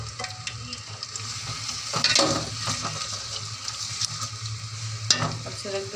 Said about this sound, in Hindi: उसी ऑयल में मैं अब प्याज को ब्राउन करूँगी।